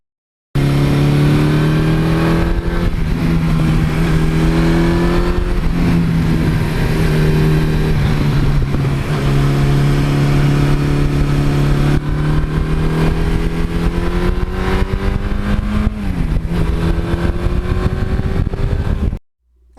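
A 1982 Suzuki GS1100E motorcycle engine revs hard through the gears, a loud, steady roar whose pitch climbs, drops at each shift, and climbs again for nearly twenty seconds with no talk.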